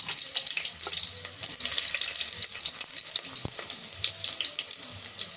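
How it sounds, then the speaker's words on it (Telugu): Chopped onion sizzles in hot oil for a Karnataka-style fish curry, a steady close crackling hiss that continues evenly throughout with a few faint clinks and no speech. "ఆయిల్ వేడైంది. ఇప్పుడు ఆనియన్ వేస్తున్నా."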